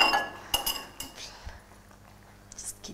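A spoon and plate are fetched in a kitchen where chapati is being made, with a few close metallic clinks and clatters of cutlery and dishes early on before fading to quiet handling.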